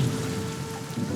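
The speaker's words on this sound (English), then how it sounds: "On this particular night of rain and thunderstorms, the water got into the stucco" Rain falls steadily during a night thunderstorm, a dense even hiss with a low rumbling undertone, fairly faint and continuous through the short stretch.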